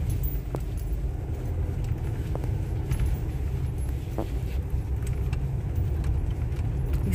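Cars drive past on a road in Panama, a continuous low traffic rumble with faint passing whooshes and occasional light clicks, heard alone with no talk.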